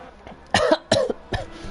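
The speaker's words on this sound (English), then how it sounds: "gonna have a bit of a coughing fit." A person coughs three times in quick succession, loud and close, with a short pause between each harsh burst.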